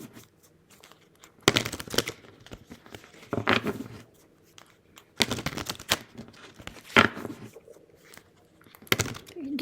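Several short bursts of rapid fluttering, papery clicks, like cards being riffled together, separated by brief quiet pauses, close by.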